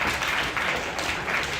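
An audience applauds a finalist at an Integration Bee math competition in Austria, giving a short burst of steady, fairly close clapping that fills the whole moment.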